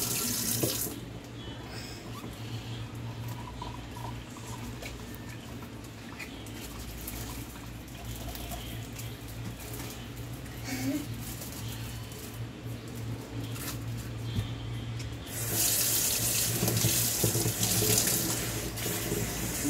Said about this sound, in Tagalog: Pagpatay mo yung tubig. Overflow ka naman eh.